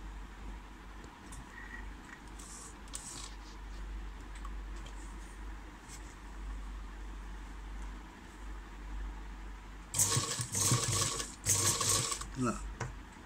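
A sewing machine stitches piping cloth onto a sleeve in bursts. It gives a soft whir under a low hum, then several louder, rattling runs near the end, while someone talks throughout.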